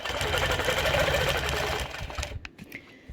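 A sewing machine stitches a curved quilting line with a backstitch, a fast steady mechanical whir that runs close and loud, then stops abruptly, leaving a few light clicks and handling noises.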